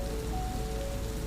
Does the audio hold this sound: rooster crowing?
no